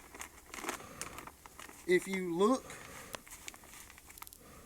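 Clear plastic bag of Fat Trax deer mineral mix crinkling in a secluded woodland bedding area, a run of scattered, crackly rustles under a man's brief speech.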